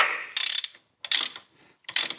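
Ratchet wrench with a 7/8 inch socket tightening a bolt on a power beyond kit on a John Deere 2032R tractor: three short bursts of rapid clicking, close and clear, separated by brief pauses.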